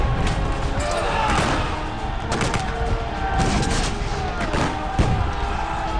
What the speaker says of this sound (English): Bayonets clash and gunshots fire at point-blank range in hand-to-hand fighting.